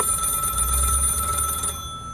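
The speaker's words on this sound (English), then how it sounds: "I think I hear the phone ringing." A telephone rings steadily for about two seconds, a bright electronic warble over a low hum, then cuts off.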